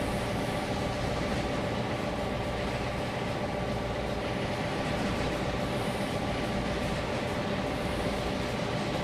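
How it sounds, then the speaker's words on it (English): A long train rolls past in the Trainz: A New Era rail simulator game, a steady, loud rumbling drone of wheels and cars that continues evenly throughout with no talk. "Wow, it's a long train. It's definitely a long train."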